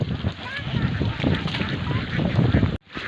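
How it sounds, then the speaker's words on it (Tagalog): Domestic ducks heading home on a farm in Bukidnon, with honking, goose-like calls and quacks rising over a busy outdoor background, close and fairly loud, cut off abruptly near the end. "oras na po ng uwian ng mga alaga ang itik po natin"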